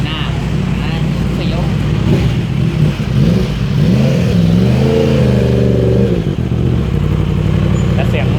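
A Yamaha R1M sport motorcycle's exhaust rumbles loudly up close, then its pitch climbs and holds as the engine is revved hard for a couple of seconds before dropping back to a throaty idle.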